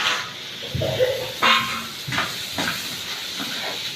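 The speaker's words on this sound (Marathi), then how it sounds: "आता यामध्ये सगळे खेकडे टाकून घ्यायचे आहे" Crabs tipped into fried red masala in a pan set off a hissing sizzle with clattering thumps as the pieces land, close and fairly loud, then an ongoing frying hiss with a few more knocks.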